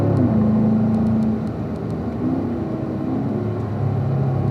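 Race car engine on a track drones steadily and loudly throughout, its pitch dipping as the driver lifts off and then holding under a continuous mechanical whine.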